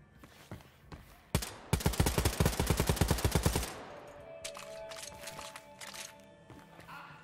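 Weapons fire in the shooter Wolfenstein: Youngblood: a few scattered single shots, then a loud, rapid automatic burst of about two seconds, followed by quieter clinks and scattered game effects.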